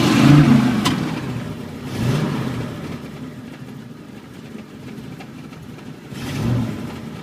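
A car engine idles with a low rumble, then revs up in a few rising swells before settling back down.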